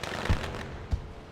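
Fireworks pop twice in the background of a sim racing truck series game after a race at Kansas Speedway, two quick, muffled bursts spaced under a second apart, fairly faint.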